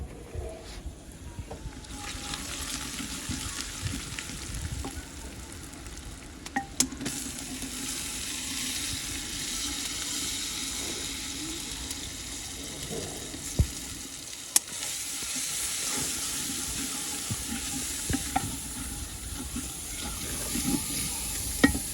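Chicken and spices fry loudly in a large pot at a village cooking setup in Pakistan. A spoon stirs and scrapes with occasional clanks over a constant close sizzle, and there is no talking.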